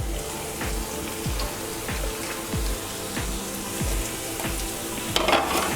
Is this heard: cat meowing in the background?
no